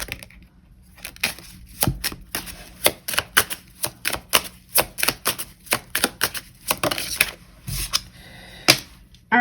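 Tarot cards are shuffled in a close, dry series of irregular sharp riffles and taps that keep going for several seconds without speech.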